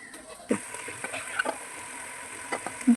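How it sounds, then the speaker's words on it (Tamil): Mushrooms are stirred and sautéed with masala for mushroom biryani, a faint soft sizzle broken by a few light scrapes and taps of a spoon against the pan. "நல்லா அந்த மசாலாவோட நல்லா வதக்கி விடுங்க"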